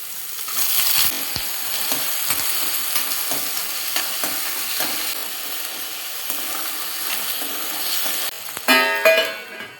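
Onions, asafoetida and potatoes sautéing in a pan: loud continuous sizzle with scraping stirring strokes, then a sharp burst of clattering near the end.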